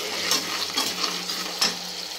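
Tadka tempering sizzles steadily in a pan while a utensil stirs it, with a continuous frying hiss and a few brighter scraping strokes, close and alone without any talk.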